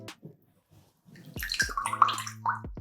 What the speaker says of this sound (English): I'm just going to soak the brush